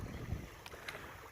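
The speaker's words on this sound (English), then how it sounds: "I know that it's windy." Low rumbling buffets of wind against the microphone, with gusty bursts and faint hiss throughout.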